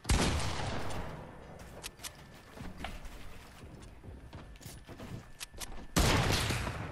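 Gunfire from the video game Fortnite crackles as a dense, sustained volley of rapid shots, loud and close, ending in a sharper, louder burst near the end; no talking is heard.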